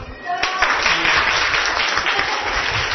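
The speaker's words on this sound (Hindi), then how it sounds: "बजाओ ताली" A class of primary school children breaks into steady applause, many hands clapping together in a dense, continuous burst.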